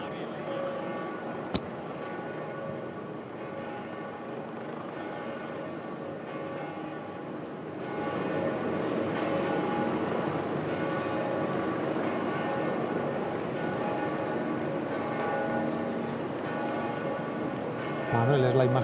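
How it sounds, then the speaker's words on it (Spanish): Church bells toll at the funeral of Pope Francis, heard as a dense, continuous wash of ringing that swells louder partway through, steady and distant-sounding with no talk over it. "Suenan las campanas, vamos a escucharlas."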